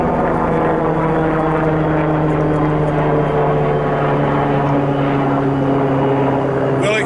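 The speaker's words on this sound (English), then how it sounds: "We'll accept that helicopter because it came from the hospital." A hospital helicopter passes overhead outdoors, a loud, sustained rotor and engine drone that holds steady throughout.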